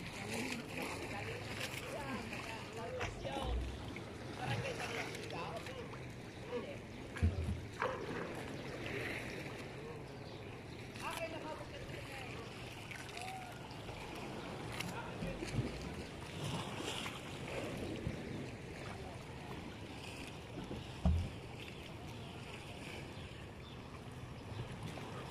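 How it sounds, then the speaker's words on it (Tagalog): Fishing boats out on the open sea, with lapping waves, wind, and occasional knocks and splashes against hulls; people talk faintly now and then. "Ang dami ng bangka dito sa dagat"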